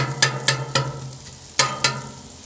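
Zucchini, hot peppers and sweet peppers frying on a Blackstone griddle, stirred with five sharp metallic spatula scrapes over a low steady sizzle, close and clear, no talking.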